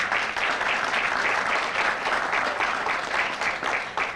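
Steady applause from an audience at a 2018 award ceremony, a dense, even clapping that holds loud and continuous throughout with no speech over it.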